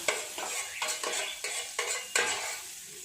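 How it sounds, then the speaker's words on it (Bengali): Melted butter sizzles in a frying pan while a utensil spreads it around, giving repeated scraping strokes about every half second over a soft, steady sizzle, close and fairly quiet. "চারদিকে এভাবে মিশিয়ে নেব বাটারটা"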